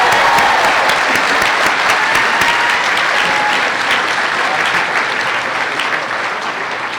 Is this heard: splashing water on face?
no